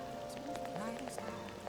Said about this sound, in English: Oh wait, it's raining though.